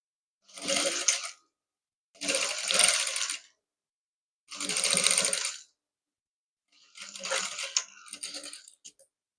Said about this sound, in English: we are done sewing one side of the collar to the dress